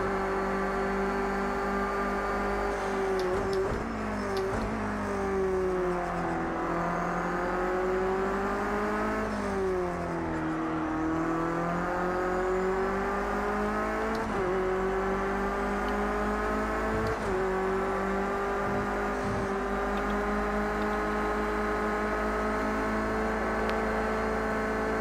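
A Clio Cup race car engine in the racing game Project Cars 2, driven aggressively on track, roars loudly and continuously for the whole stretch, with pitch rising and falling through several gear shifts and no talking over it.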